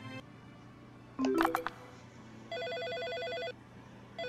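Telephone ringing in the Dream Day Wedding video game, a steady electronic warbling ring that repeats in a clear burst, following a brief sharp chime, heard alone with no talking.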